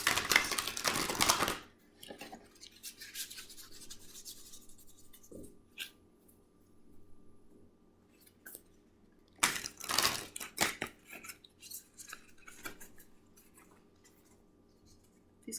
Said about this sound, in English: These cards are kind of new, so they're hard to shuffle